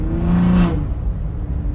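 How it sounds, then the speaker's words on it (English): Exhaust of a 2023 third-generation Ford Raptor in quiet mode, accelerating with a brief rising swell that peaks then settles into a steady, fairly loud low rumble, heard alone. "I can still hear that's the exhaust in quiet mode and it's still that loud."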